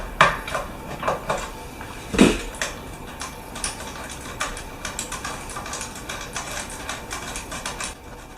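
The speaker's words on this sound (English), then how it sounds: "Take that nut and bushing off first, and then the washer." Small metal parts are handled while the nut, bushing and washer come off a guitar tuning machine: scattered close clicks and light metallic clinks, with one sharper clink near the start and steady faint ticking after it, and no speech.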